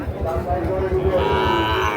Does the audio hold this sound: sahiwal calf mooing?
yes